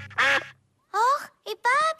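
Cartoon ducks in a Peppa Pig episode quack in short, bright, nasal bursts, three or four in quick succession, close and clear with brief pauses between them.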